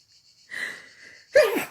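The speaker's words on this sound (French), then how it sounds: "J'ai envie d'éternuer." A man presenting an oracle book lets out a single sneeze: a thin wheezy in-breath, a short pause, then a sharp, loud burst trailing into a brief snort, close to the microphone.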